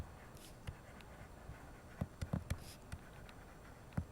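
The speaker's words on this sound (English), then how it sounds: "So I'm going to write that down." A pen or pencil scratches and taps on paper while working a math problem, giving soft irregular strokes and clicks, quiet and close with no talking.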